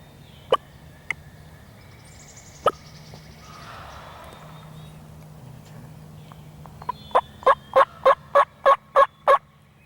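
Wild turkey toms gobbling in the woods, a fast run of loud, evenly spaced gobble pulses near the end after a few isolated sharp calls earlier, over a faint outdoor background.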